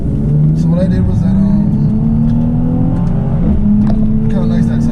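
Mercedes C43 engine held at a steady rev, a loud continuous drone with slight rises in pitch, with a voice talking over it.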